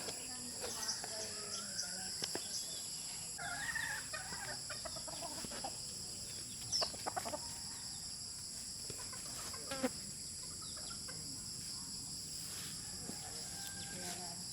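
Purebred breeding chickens of the Brown Gray line at a farm, with scattered clucks and calls against a steady insect drone and faint background voices.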